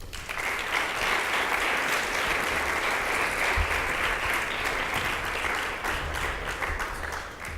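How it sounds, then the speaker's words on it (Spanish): Sustained applause from a seminar audience welcoming a lawyer presenting on sports law, a dense, steady wash of many clapping hands that holds evenly for the whole stretch before easing slightly at the end. "Recibámoslo con un fuerte aplauso."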